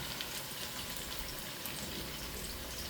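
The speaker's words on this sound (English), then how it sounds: "while those french fries are frying up, I'll keep browning this" French fries frying alongside corned beef browning in a pan give a steady, dense sizzle and crackle like light rain, continuous and even throughout with no talking.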